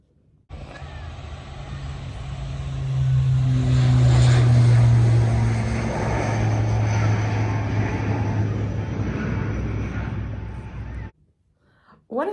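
Airplanes taking off and landing at Edinburgh Airport, a loud sustained propeller and engine roar that swells to a peak midway, holds steady, then cuts off abruptly near the end.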